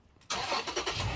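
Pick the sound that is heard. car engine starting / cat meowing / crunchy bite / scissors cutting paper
car engine starting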